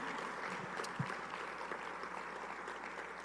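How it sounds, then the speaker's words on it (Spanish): A church congregation giving applause during a Spanish-language service: a dense, steady wash of clapping from many hands, moderately distant and fairly soft, with one sharper clap near the middle. "Por favor, dale un aplauso al Señor esta tarde."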